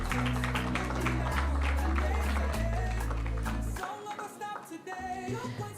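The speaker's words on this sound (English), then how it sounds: "Put your hands together," An audience applauds the final Scrabble winner at a communications mentorship conference and book launch, with steady clapping throughout beneath loud sustained background music and hum.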